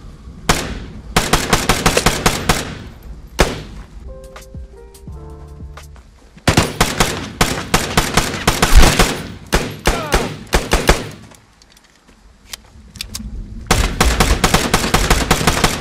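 Bursts of heavy automatic gunfire ring out in an ambush in the survival shooter Vigor on Xbox One, long loud volleys broken by short pauses and a few quieter scattered shots, with no talking.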